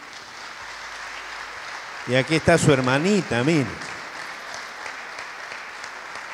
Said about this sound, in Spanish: dé un aplauso de bienvenida